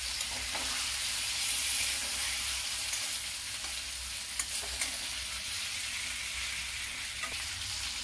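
Boneless chicken frying in a pan for a sweet-and-sour home recipe, with a steady, close, broadband sizzle and faint stirring scrapes running throughout, no talking.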